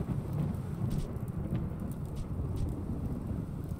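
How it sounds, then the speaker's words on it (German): Thunder in the video game RimWorld rumbles low and continuous beneath a steady rain-like hiss, a deep rolling sound without sharp cracks. "es donnert doch"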